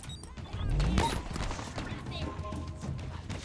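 Rapid gunfire in the video game Halo Infinite swells into a dense burst near the start, then settles into quieter crackling shots and mechanical clatter.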